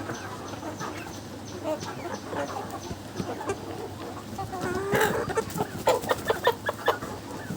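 Farm chickens clucking restlessly, wanting water in hot weather: overlapping nearby clucks and squawks that grow busier and louder toward the end, with no talk.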